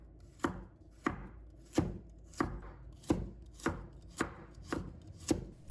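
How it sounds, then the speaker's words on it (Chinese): Half a carrot is sliced on a cutting board with a knife: nine crisp, evenly spaced chops land about every two-thirds of a second, close and clear, with no talk. "准备半条胡萝卜，把它切成小段，"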